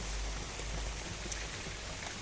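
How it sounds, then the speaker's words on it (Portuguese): Light rain patters steadily behind an open-tailgated 1982 Datsun Urvan E23, a soft, even hiss with faint scattered drops, fairly quiet and without voices. "está a chover"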